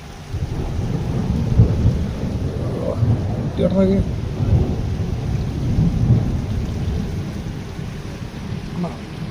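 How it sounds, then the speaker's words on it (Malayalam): Heavy rain pours steadily in Qatar, with low rumbling thunder throughout and rain drumming nearby, as a voice speaks briefly in the middle. "എന്താ മഴ."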